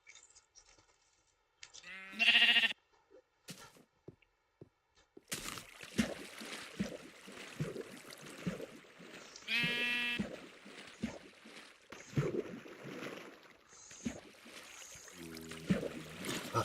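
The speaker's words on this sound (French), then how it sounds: "Oh, un petit mouton." Sheep bleats from the video game Minecraft, two distinct bleats standing out clearly amid quieter game sounds and soft clicks, with brief gaps of near silence between them.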